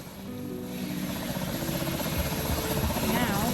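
A helicopter rotor in the Roblox game Pilot Training Flight Simulator gives a steady, loud whir that builds slightly and carries through the whole stretch.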